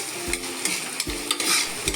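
Tomatoes and onions fried in a pan for pulao are stirred in regular scraping strokes, one roughly every second, over a steady close sizzle, with no talking.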